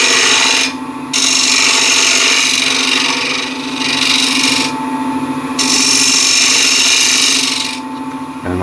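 A woodturning scraper cuts wood spinning on a lathe for a trinket box, a loud continuous scraping hiss over the lathe's steady hum, swelling and easing as the cut changes, with no talking.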